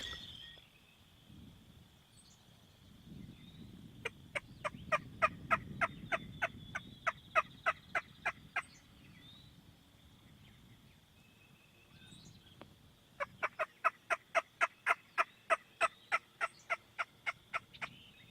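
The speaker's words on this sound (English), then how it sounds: "I heard a couple gobbles. They were in the distance" Wild turkeys gobble in the distance during a wet hunt: two long runs of rapid, evenly spaced rattling pulses, faint and far off, over a low background rumble.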